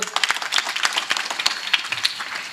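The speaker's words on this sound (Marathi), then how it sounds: "एकदा महाराज टाळ्या वाजवा बरं" A crowd claps steadily for a few seconds, dense irregular hand claps blending into lively applause at close range.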